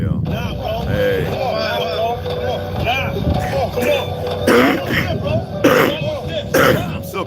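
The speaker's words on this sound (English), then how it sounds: "I'm still coughing it up, but it's not all the way" A person coughing and clearing their throat, a few harsh bursts coming close together near the end after a stretch of murmured talk, close to the microphone.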